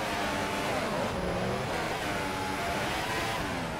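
An F1 car in the F1 2014 game on the Monaco Grand Prix circuit, its engine droning loudly and steadily as it slows under braking, with no pause in the noise.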